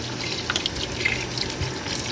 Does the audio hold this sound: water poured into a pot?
yes